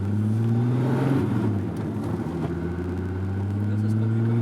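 A Golf 2 with a swapped VR6 turbo engine of 170 horsepower runs with a deep, steady droning hum that shifts slightly in pitch, heard up close with people talking over it.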